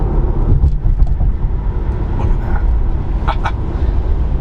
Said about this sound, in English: acceleration is nuts in this car